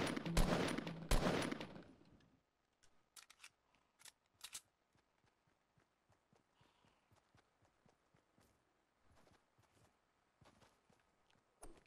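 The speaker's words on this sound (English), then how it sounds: "casual gunshots on the hill to my left" Distant gunshots crack in a video game, a couple of loud bursts at first followed by a long run of faint, scattered, irregular shots off to one side.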